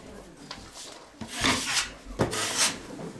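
A scraper drags across drywall joint compound in a few short rasping strokes, fairly close and moderately loud, with quiet pauses between passes.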